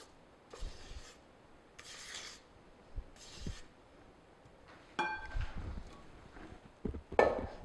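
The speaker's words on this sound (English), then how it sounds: "So I'm just going to make sure that chocolate's all mixed in. I'm just using a rubber spatula." A rubber spatula scrapes and stirs thick chocolate fudge cookie batter in a bowl, producing quiet, intermittent rasping strokes with occasional soft knocks against the bowl.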